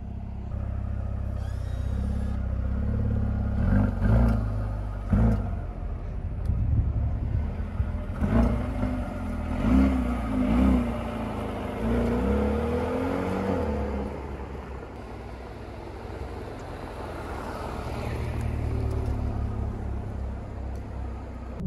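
A Mercedes-AMG A35 sedan engine pulls away and accelerates while driving, a low rumbling drone that rises and swells through the run, heard from inside the car with no talking.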